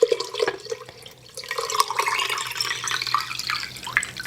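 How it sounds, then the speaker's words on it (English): Water poured into a flower vase holding floral foam to top up the level, a steady splashing trickle with small drips, close by and continuous for several seconds. "top the water level up"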